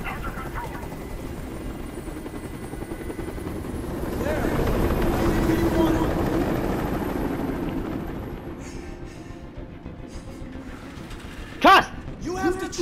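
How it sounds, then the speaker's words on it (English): Helicopter in the video game Detroit: Become Human, a steady rotor drone that swells louder at mid-clip and fades back, layered with a dense rumbling game soundscape and a brief sharp burst near the end. "Tell that helicopter to get out of here."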